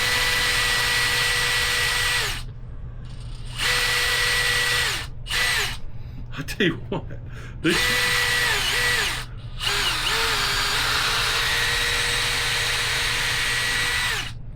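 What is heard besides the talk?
drill boring through shoe rubber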